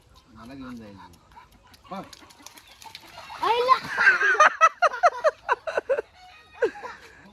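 Village chickens cluck and squawk in a rapid, choppy series during an attempt to catch them at a Konkan home during Gauri festivities, with voices talking and a dog heard nearby.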